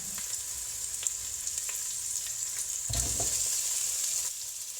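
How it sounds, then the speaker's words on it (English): Onions sizzle steadily in hot olive oil, a constant crackling hiss with brief stirring scrapes and a louder burst partway through. "Let them sizzle for a few minutes and then add the carrots."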